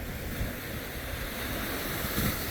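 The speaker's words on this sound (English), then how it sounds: "A wave just came up." Ocean waves wash up on a sandy beach at the high-water line, a steady close surf roar with wind buffeting the microphone and one surge swelling near the end.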